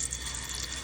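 Flatbread batter poured into hot cooking oil, giving a steady, close hiss of liquid spreading and frying for under a second, with no talk over it.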